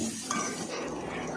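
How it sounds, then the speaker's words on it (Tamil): Green chillies and tomato stirred in a frying pan for tomato thokku, a spatula scraping and clinking against the metal pan over a soft continuous sizzle, close and fairly loud with no voices. "இதை நம்ம நல்லா கிண்டிக்கலாம்"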